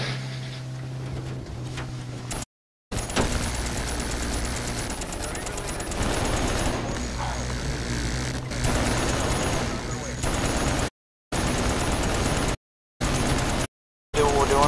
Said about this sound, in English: But I'm just shooting with a turret.